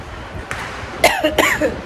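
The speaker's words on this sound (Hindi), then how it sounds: "और खांसी आ रही है फिर से।" Two quick, harsh coughs close to the listener, one right after the other, following a small throat sound; no speech.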